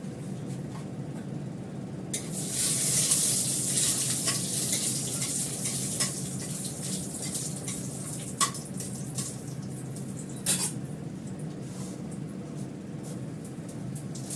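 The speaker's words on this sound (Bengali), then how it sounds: "শুকনো লঙ্কা দিলাম, 5 ফোড়ন দেবো।" Dried red chillies and panch phoron sizzling in hot oil for dal, a steady soft frying hiss throughout with occasional faint clicks and stirring taps.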